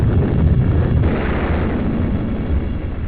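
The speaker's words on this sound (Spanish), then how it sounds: "el Chatelaine comenzó a arrojar cargas de profundidad en el área del objetivo" Depth charges detonating underwater near a U-boat in a wartime naval attack, a loud continuous low rumbling roar of explosions filling the whole stretch without pause.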